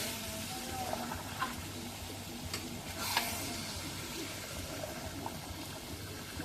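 Meat being stirred in a cooking pot makes a continuous low sizzle and bubbling, with a few soft scrapes and clinks, fairly quiet and steady throughout.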